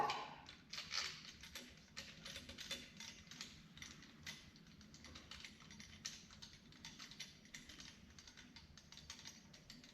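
A torque wrench tightens cylinder head bolts on a 3.5 EcoBoost engine, producing steady rapid mechanical clicking and ratcheting throughout, faint and continuous, with no talking.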